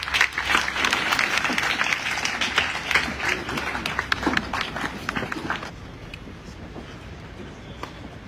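Loud, dense audience applause after a presidential address at a military teaching hospital in Sierra Leone, continuing steadily for several seconds before thinning to a quieter tail.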